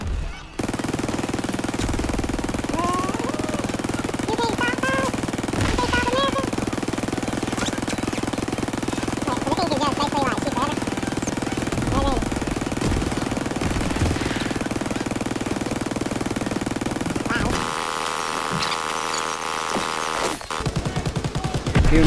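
Heavy, continuous gunfire and rattling bursts in the World War II shooter Call of Duty WWII, loud and sustained with explosions and combat noise, ending in a sudden shift to a droning tone.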